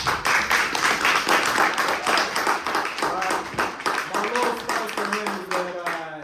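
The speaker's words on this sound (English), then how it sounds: "give him one more round of applause" Audience applause during an artist talkback at a gallery, rhythmic clapping from a small crowd close by, with voices chatting and calling out over it as the clapping thins toward the end.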